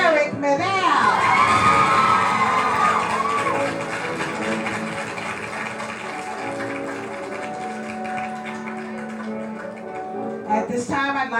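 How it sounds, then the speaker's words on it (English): A high school auditorium audience at a Nutcracker performance breaks into loud cheering, shouting and whoops for the dance instructor, young voices rising sharply at first, then settling into a sustained crowd roar with clapping that swells again at the end. "Let's please put our hands together for a great big round of applause for our dance instructor here at Lynwood High School"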